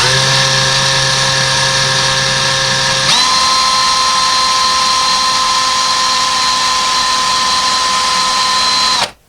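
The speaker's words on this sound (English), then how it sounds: "So now we're going to drill until that tape comes in contact with the wall." A power drill bores through sheetrock into a wall stud while a curtain rod is being hung, a loud, steady high whine that shifts pitch once as it bites deeper, then cuts off abruptly at the end.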